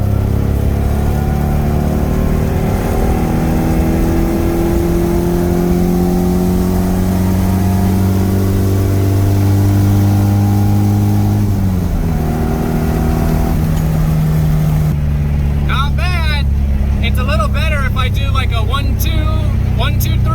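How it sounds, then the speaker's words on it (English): Nissan S13 engine floored in third gear, a loud continuous rising drone as revs climb steadily, dipping briefly near the end before pulling again, with rattly interior noise over it. "All right, a little bit of third gear, floored."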